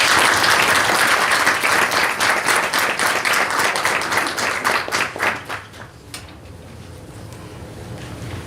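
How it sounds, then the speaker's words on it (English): A round of applause at a Board of Education meeting, dense steady clapping from the room that thins out and fades after about six seconds, leaving quiet room tone. "Give yourselves a round of applause."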